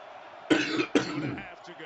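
Someone commentating live football play-by-play coughs twice in quick succession, close and sharp, then trails off into a low throaty rasp.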